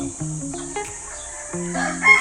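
A Malatuba rooster crows close by in a single drawn-out call, with other fowl clucking faintly around it.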